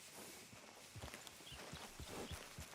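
In the Red Dead Redemption 2 video game, a horse walks with soft, evenly spaced hoof clops over steady ambient background, moderately close and unaccompanied by speech.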